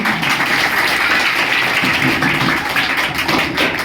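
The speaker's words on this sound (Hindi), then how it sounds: "तो सर के लिए भी एक जोरदार ताली होनी चाहिए।" Loud, dense applause from a crowd at a school farewell and felicitation ceremony, a steady wash of many clapping hands filling the whole stretch with no voices on top.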